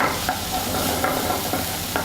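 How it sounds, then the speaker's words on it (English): Onions and garlic being stirred in a very hot pan with browned beef bits, a steady sizzle of frying under repeated scraping strokes of a utensil against the pan, close and continuous. "And you always stir."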